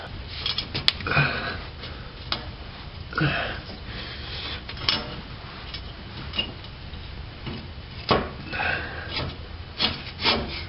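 Nuts being threaded by hand onto the exhaust Y-pipe studs of a 1987 Toyota 4Runner with a 22RE engine: close, intermittent scraping and rubbing bursts with occasional light clicks, spaced irregularly over a quiet background.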